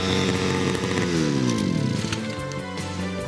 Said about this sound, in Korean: 이 시기의 예초기는 농촌에 없어서는 안 될 농기계